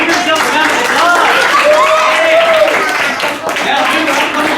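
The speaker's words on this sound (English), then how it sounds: "Give yourself a round of applause." Elementary schoolchildren clap for themselves in a classroom, loud busy applause mixed with excited shouting and high voices throughout.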